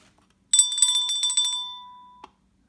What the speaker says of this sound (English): I got to ring the bell for this one, guys.